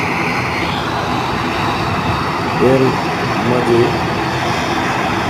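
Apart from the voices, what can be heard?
Bangladesh Airlines airplane taking off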